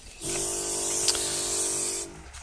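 Backpack sprayer misting foliar fertilizer onto pumpkin plants, one steady bright hiss of spray lasting about two seconds, close and loud, starting and stopping abruptly.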